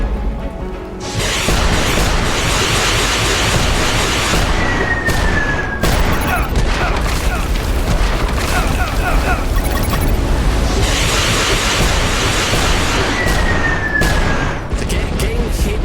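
Continuous barrage of grenade and missile explosions in the action game UnMetal, dense booms and bursts layered over game music with whistling projectiles streaking through, loud and unbroken throughout.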